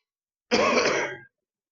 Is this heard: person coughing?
yes